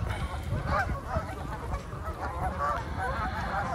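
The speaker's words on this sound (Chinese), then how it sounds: "你看我一过来，这鹅马上就冲上岸来了。" Canada geese honk repeatedly at close range as a hungry flock rushes ashore on a cold winter day, with overlapping calls in an uneven rhythm.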